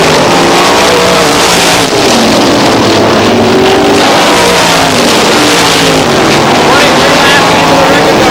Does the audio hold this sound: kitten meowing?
no